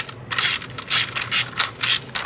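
Ratcheting torque wrench tightening an Evotech frame slider bolt on a Suzuki GSX-8S motorcycle, five crisp bursts of metallic ratchet clicks in a steady rhythm, close and clear with no talk.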